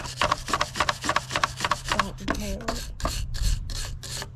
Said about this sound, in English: Make sure you have a wire brush, and then all that you do is clean this off.